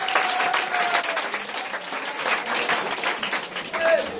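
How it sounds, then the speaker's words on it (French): A church congregation applauding and cheering for Jesus, steady dense clapping throughout with raised voices mixed in, loud and full like a large indoor crowd. "Est-ce qu'on peut acclamer Jésus?"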